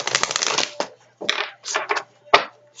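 Romance tarot cards being shuffled by hand, several short crisp riffling bursts separated by brief pauses, close and fairly loud, with no talking.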